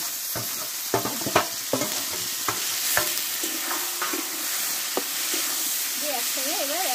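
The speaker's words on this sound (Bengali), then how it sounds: "একসঙ্গে এবার আমি নাড়তে থাকবো।" Boiled drumstick greens (sajne shak) with sugar and turmeric are stirred in a hot pan. A soft sizzle runs under repeated scraping and knocking of a spatula, and a faint wavering tone enters near the end.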